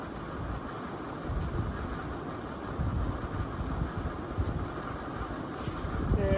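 A NuTone Slimline ceiling fan on its highest speed gives a steady, low, rumbling whoosh of moving air, continuous and fairly close, with slight swells in loudness and no talking.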